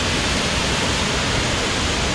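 Muddy, swollen waterfall pouring through a boulder-strewn creek near Guadalupe, Colombia, giving a steady, loud broadband roar of rushing water with no voices.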